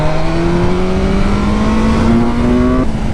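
A 2021 BMW S 1000 R motorcycle engine runs while still cold, a loud, steady drone that rises slightly in pitch, then drops off sharply near the end.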